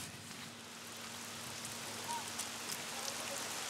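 Monsoon rain in a Philippine village falling as a steady, even hiss of drops on surfaces, soft and continuous with a faint low hum underneath.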